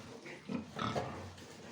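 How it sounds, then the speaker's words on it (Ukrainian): Fattening pigs in a pen grunt in a few soft, close bursts over steady low barn noise, with no talking. "Отакі пацики."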